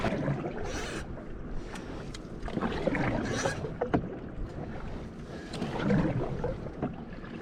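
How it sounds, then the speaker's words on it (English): A canoe paddles upstream on Scottish water: soft, repeated paddle splashes and dripping strokes come close by, with light wind noise and no voices. "So we're just gonna paddle upstream for a little while."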